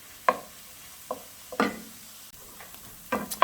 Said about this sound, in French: on mélange tout ça et on fait cuire comme ça environ 5 petites minutes